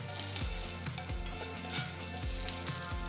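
Garlic and curry leaves fry in hot oil for a namkeen snack mix, a steady close sizzle with a few soft stirring scrapes recurring at regular intervals.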